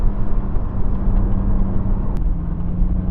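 A Lotus Elise S3 on Nitron suspension and worn road tyres drives along a road, giving a loud, steady engine and road rumble with a low droning hum that continues without break.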